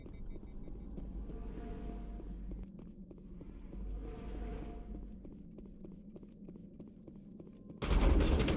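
Rapid bursts of gunfire crackle in the Mass Effect video game, a dense run of quick regular shots under a constant low rumble of background noise, ending in a louder blast.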